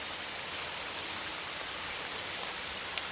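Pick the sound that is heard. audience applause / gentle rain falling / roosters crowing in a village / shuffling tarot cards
gentle rain falling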